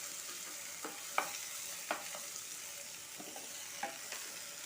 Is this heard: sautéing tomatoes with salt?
yes